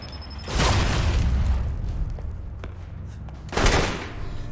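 In the video game Alpha Protocol, two heavy bursts of gunfire boom out about three seconds apart, each a loud rumbling blast that trails into a low roar between shots.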